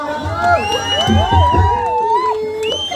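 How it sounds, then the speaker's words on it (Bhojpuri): Cheering and whooping from a devi jagran crowd greet the performers, a short loud burst of shouts and excited voices with a few claps beneath a sustained amplified tone. "तालियां"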